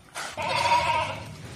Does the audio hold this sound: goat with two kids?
yes